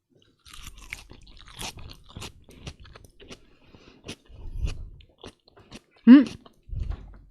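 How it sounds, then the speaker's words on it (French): Someone chews food loudly, with scattered crunches and wet mastication sounds close to the mic, while people talk in French around the bites. "Bon app et fait du bruit en mâchant bien fort"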